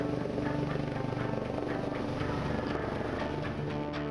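A helicopter drones steadily nearby while delivering big bags to a viaduct construction site, its rotor thumping in a fast, even rhythm under a constant engine roar.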